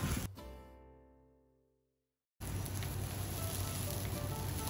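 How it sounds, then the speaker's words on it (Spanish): Rice sizzling in a pan for mushroom risotto, a short burst that fades into near silence, then a dense, loud, steady frying hiss resumes and continues. "Como si chisporrotea nuestro arrocito,"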